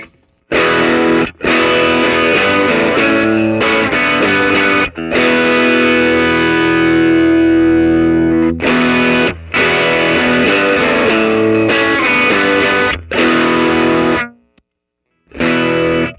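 Loud electric guitar through a 1996 ProCo RAT Big Box reissue distortion pedal, heavy overdrive, chords ringing out in sustained bursts with short gaps, ending in brief silence before another strum.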